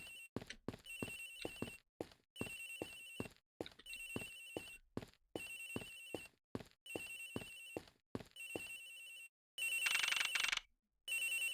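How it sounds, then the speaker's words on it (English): A cell phone ringtone in the Ace Attorney Investigations video game repeats in short rhythmic bursts of bright chirping tones, clear and alone, ending with a louder, denser burst. "The ringing's coming from somewhere in here, sir."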